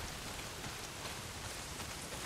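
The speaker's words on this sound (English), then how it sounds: "Well, not if it's pissing down rain." Steady heavy rain pours down in the open-world game Days Gone, a dense even hiss of drops on surfaces that runs unbroken throughout with no voices.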